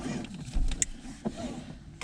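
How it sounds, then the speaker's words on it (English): Electric motor of an Audi 80 converted to battery power spins up as the car is switched on, a brief close whirr among a few sharp clicks and clunks. "Motor spins."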